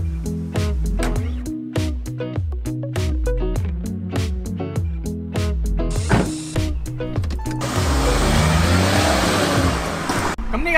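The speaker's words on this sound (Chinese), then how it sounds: "副 engine 好似摩打咁聲，好高轉，佢可以扯到上去好高轉" A Honda S660 with a 660cc turbo engine revs hard through repeated rising sweeps, pulling up to high rpm. It ends in a sustained high-pitched whine close by, with talk heard in the background.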